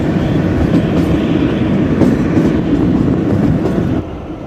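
Kalka–Shimla toy train on the UNESCO heritage mountain railway, running with a steady, loud rumble and rattle of the carriages, dropping slightly in level near the end; no talk.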